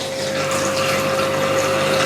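Water running into a blender for a blueberry, spinach and frozen banana smoothie, a steady, continuous pouring rush with a faint constant tone, heard alone throughout.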